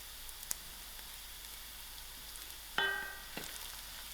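Onions and garlic frying in a pan, a faint soft sizzle throughout with a few light clicks and a brief brighter hiss near the end.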